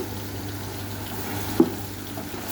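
Garlic, ginger and onion frying in a pan, a low steady sizzle with a single brief knock partway through, close and without speech.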